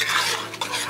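A spoon stirs a pot of alligator sauce piquant, a close, loud scraping swirl with a faint sizzle underneath, heard in one brief continuous pass without any talking.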